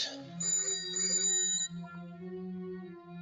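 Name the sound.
telephone ringing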